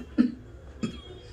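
Two short coughs from a woman suffering a bad cough, close and fairly loud, about half a second apart with quiet in between.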